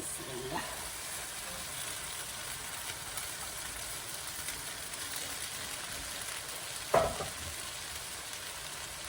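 Boiled chillies sizzling and frying in a pan during noodle preparation, a steady close hiss that continues throughout, with one brief clatter near the end.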